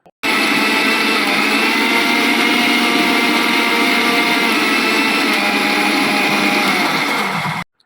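A mixer grinder runs steadily, grinding coconut, cumin and chillies into a paste; a loud, continuous whirring motor drone holds for about seven seconds, then cuts off abruptly.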